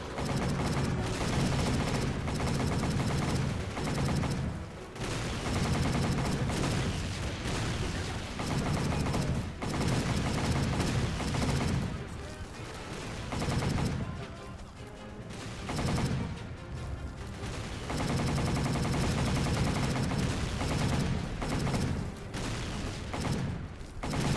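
Sustained machine gun fire in a shooter video game, long loud bursts of rapid shots broken by short pauses, with explosions mixed in and no talking.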